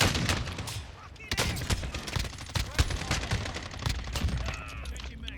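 Rapid gunfire in Call of Duty: Warzone, dense overlapping cracks and bursts of automatic fire with distant shots behind, loud and continuous throughout.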